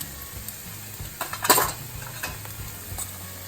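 Ground garam masala and coriander powder sizzle in a pan for chickpea curry while a utensil stirs them, with a soft constant fry, a few scraping strokes and one sharper clink near the middle.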